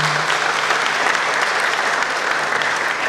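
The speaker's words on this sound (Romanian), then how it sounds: "Felicitări și aplauze!" An audience at a school year opening ceremony for a post-secondary nursing school applauds steadily, a dense, even patter of clapping heard from within the crowd.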